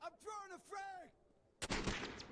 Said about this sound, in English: Nice little shot there with the 1x scope.